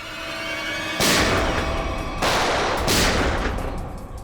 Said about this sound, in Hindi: गोली की चलाई, सुन लो।